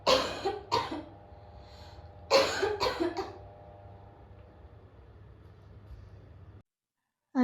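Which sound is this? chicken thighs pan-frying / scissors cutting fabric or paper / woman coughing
woman coughing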